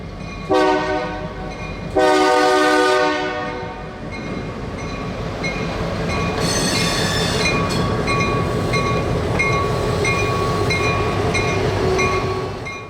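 A freight train locomotive shoving a cut of empty cars along the main line toward a wye sounds two loud horn blasts near the start, then the steady engine rumble and rolling wagons continue with squealing wheel tones.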